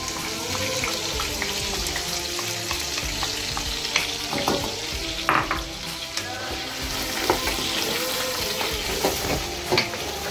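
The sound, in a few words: sofrito frying in a pan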